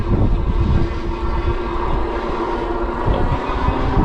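Aventon Aventure 3 ST fat-tire electric bike motor humming steadily while riding, a continuous low whir blended with tire rumble and wind, with no talking.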